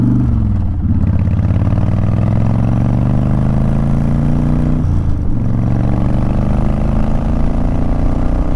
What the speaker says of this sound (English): Man, I love this bike.